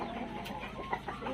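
Free-range Black Australorp chickens cluck softly in a brief, quiet burst, a few short scattered calls with no talking.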